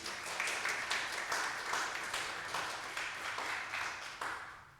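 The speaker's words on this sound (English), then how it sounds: "Let's give Gary another round of applause." An audience at an author's talk applauds for several seconds, a dense, even patter of many hands clapping at moderate distance.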